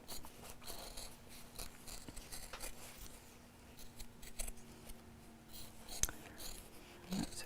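Scissors trim the seam allowance of a fabric dress-up crown, giving faint, quiet snips and soft cloth rustles spaced irregularly against a low background hum.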